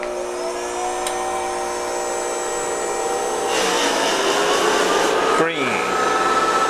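A small polishing motor buffing platinum whines steadily and loudly throughout, its pitch dipping briefly near the end as the piece presses against the wheel, with a single word spoken over it.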